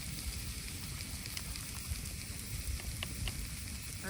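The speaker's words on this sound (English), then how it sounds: "I just took a little peek and there's some searing action going on" Pork chops searing in a pan over a campfire: a faint, steady sizzle and crackle throughout with scattered small pops, heard from close by.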